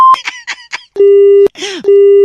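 Telephone line tone after a call is hung up: a few short chirpy beeps followed by a repeated steady electronic tone in long pulses, loud and close, briefly interrupted by a sweeping burst.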